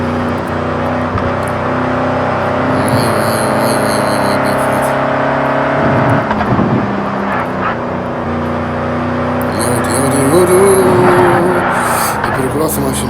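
Lamborghini Urus Performante with a 750 hp V8 engine driven fast, its steady interior engine drone rising at moments under talk from the occupants.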